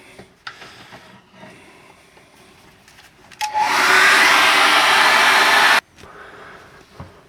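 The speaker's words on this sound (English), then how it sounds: "I'm going to dry that with a hairdryer." A hair dryer switches on with a click and blows loudly and steadily for about two seconds, drying acrylic paint, then cuts off, with faint handling noises before and after.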